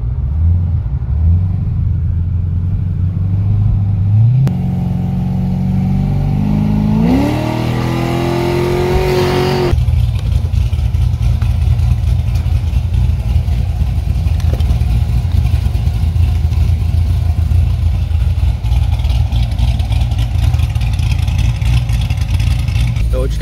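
A cammed LS3-powered C6 Corvette running on E85 fuel rumbles loudly and steadily from start to finish, with a rising rev partway through before it settles back into a deep, continuous drone.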